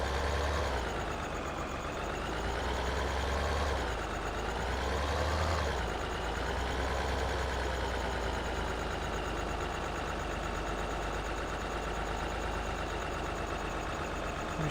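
A vehicle driving in the farming game Farming Simulator 2013, a steady low engine drone with a smooth continuous hum and slight swells in pitch, alone with no talking.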